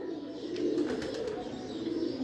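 A flying pigeon coos in a low, steady murmur close by, set against a constant background hiss.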